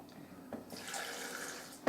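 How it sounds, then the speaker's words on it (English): Water runs into a cooking pot in a brief, steady gush, close and moderately loud, ending with a small knock. "Pour some water"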